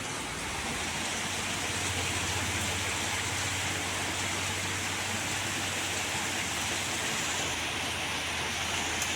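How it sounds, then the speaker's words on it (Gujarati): Heavy rain pours down in a dense, steady roar of hiss and spatter that stays loud and unchanging the whole time, with no voices over it. "જોરદાર વરસાદ છે, જોરદાર એકદમ. બધી જગ્યાએ પાણી પાણી છે."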